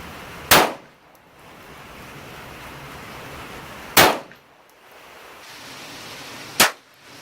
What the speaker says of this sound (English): 5 shots, 2 different types of ammo, 25 yards.